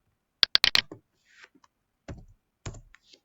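A few sharp clicks come in a quick burst of four, followed after a pause by two more isolated clicks, close and distinct in a quiet room, from a computer mouse used while building a Scratch game.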